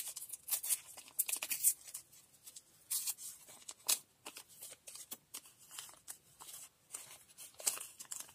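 Paper being torn by hand for a floral collage, a series of short, crisp ripping bursts at irregular intervals, close up and fairly quiet, with no talking.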